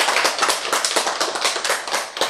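Audience members clap together in a quick, dense burst of applause, loud and close, lasting a couple of seconds with no talking over it.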